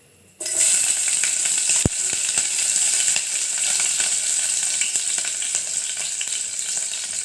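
Chillies hit hot oil with a sudden loud, steady sizzle that holds without a break, a single sharp clink near the start as they go into the pan.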